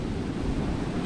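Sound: ocean waves at a beach in Ocean City, Maryland

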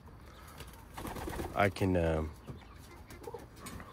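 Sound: pigeons cooing in the loft

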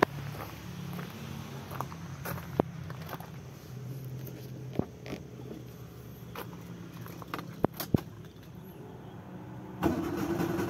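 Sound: car engine starting

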